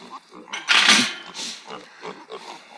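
Pigs on a Cotswolds farm grunting and squealing up close, a burst of loud snorts followed by shorter grunts, with no talking.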